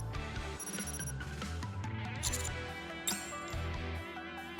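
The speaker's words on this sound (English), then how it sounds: "My phone abruptly starts ringing," A phone ringing in the video game Nikke, an electronic ringtone melody with a buzzing trill layered over in-game music, moderately loud and continuous, no speech.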